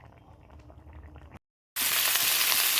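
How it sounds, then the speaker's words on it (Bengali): Potatoes fry with black cumin, dried red chillies and green chillies in a home kitchen pan: a quieter bubbling, a brief silence, then a loud, close, continuous sizzle. "দেখো এখানে আলু ভাজার জন্য কালো জিরো ফোড়ন দিয়েছি শুকনো লঙ্কা দিয়েছি আর এই আলুটা দিয়ে দিয়েছি"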